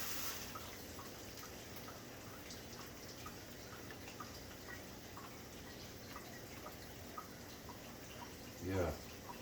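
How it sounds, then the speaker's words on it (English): Beer poured from a can over chicken drumsticks in a pot, a faint, continuous liquid trickle with scattered drips, plus a brief louder splash near the end, under low background noise and occasional voices. "Pour a can of beer on top of the chicken"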